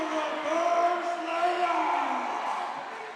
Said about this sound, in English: Now you hear the Bulldog faithful on the far side cheering defense